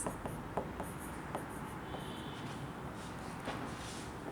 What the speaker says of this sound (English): Let me write the heading.